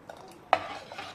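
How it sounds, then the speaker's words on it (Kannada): Corn grits porridge stirred in a pot with a spoon, a sudden scrape and clatter at mid-clip, then steady soft scraping and bubbling sounds, with no talking. "ಈಗ ಇದು 2 ನಿಮಿಷ ಗಂಟಾಗ್ಲಾರ್ದಂಗೆ ತಿರುಗಿಸೋದು"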